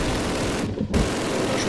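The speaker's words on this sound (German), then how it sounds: "Ich schieße jetzt zurück hier." Continuous dense gunfire from a Call of Duty game, loud and sustained. A brief gap interrupts it near the middle before the noisy burst resumes.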